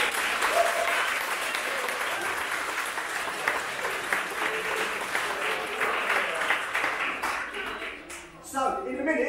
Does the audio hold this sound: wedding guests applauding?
yes